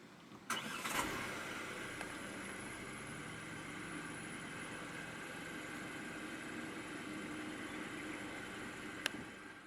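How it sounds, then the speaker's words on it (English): A 2023 Chery Tiggo 8 Pro 390T Premium cranks with a brief burst near the start, then settles into a steady, moderately loud idle that holds until the end. "Put your foot on the brake and press the start button to the left of the steering wheel."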